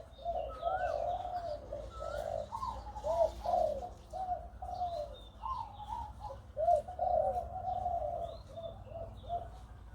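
A female hybrid Liu Tan bird calls from a breeding cage, giving a steady run of soft cooing and warbling phrases with a few higher chirps, close and moderately loud over a faint background hum.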